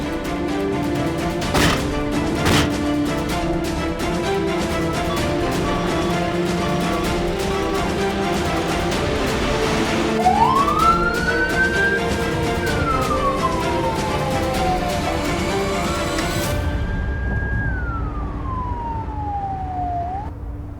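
An ambulance siren wails loudly over steady traffic, its tone sweeping up and down in long rising and falling glides as the vehicle passes close by.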